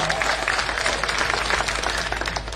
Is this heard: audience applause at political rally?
yes